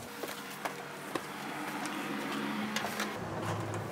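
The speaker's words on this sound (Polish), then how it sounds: "Jak słyszysz, klimatyzacja dachowa chodzi." A rooftop air conditioner on a camper van runs with a steady low hum and airy hiss, with scattered light clicks and knocks over the top; it is fairly quiet and close.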